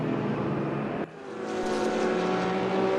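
Race cars lapping the Bathurst circuit in the RaceRoom racing game, a steady engine drone that dips briefly and then swells back, continuous and fairly loud with no voices.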